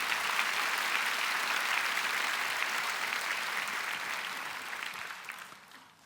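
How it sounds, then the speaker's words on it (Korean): Sustained applause from a church congregation at a Daniel prayer meeting, dense and steady clapping filling the room before tapering off near the end. "영광의 박수 한번 올려드립니다."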